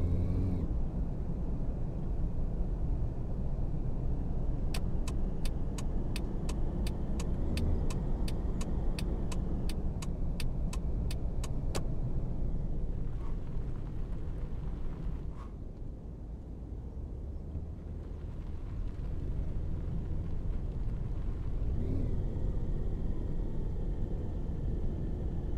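A taxi drives through Barcelona streets in the driving game Taxi Life, its engine a steady low rumble throughout, with a rapid ticking indicator clicking for several seconds partway through.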